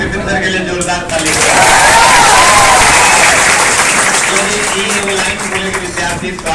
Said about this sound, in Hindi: विपिंदर के लिए जोरदार ताली।